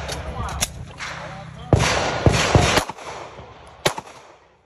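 Sharp gunshots from a JSD Supply binary trigger firearm at an outdoor range gathering, several cracks spaced irregularly, with quick paired shots and a later lone report, loud and close over low background rumble.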